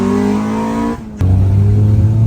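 A Honda FL5 Civic Type R engine with an upgraded intercooler revs hard into VTEC, a loud, steady drone that dips briefly and then jumps to a deeper, stronger roar, close by.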